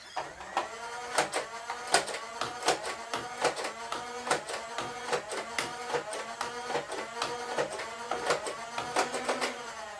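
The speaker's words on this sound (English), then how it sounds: "I'll show you it firing. Firing ECAN waffle head darts out of the main gun and the shotgun." A motorized Nerf toy blaster fires ECAN waffle head darts from its main gun and shotgun, giving a steady mechanical whir broken by rapid, evenly spaced sharp clicks and pops, close and loud with no talking.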